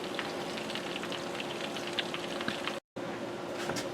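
Chicken pan-frying in Crisco all-vegetable shortening, a steady dense sizzle and crackle of fine pops carrying on evenly for several seconds, with a brief break partway through.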